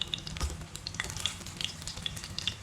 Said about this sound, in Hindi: इस तरह से फ्राई करेंगे।